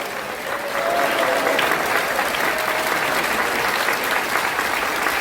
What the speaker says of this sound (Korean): 여러분 정광훈 목사님 위해서 한번 뜨거운 박수를 한번 다 같이 일어서서 한번 부릅시다